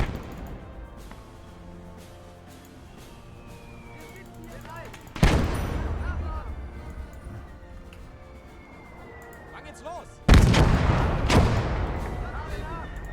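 Two loud mortar or artillery blasts erupt in a Kampfgruppe war game battle, each a sudden heavy boom with a long decaying rumble, amid quieter background gunfire and scattered battle noise.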